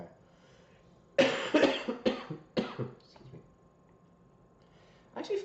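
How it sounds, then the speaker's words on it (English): A person coughs repeatedly in a cluster of harsh bursts close to the microphone, then falls quiet before one more short cough at the end, in a quiet room. "except the coughing's giving me a headache."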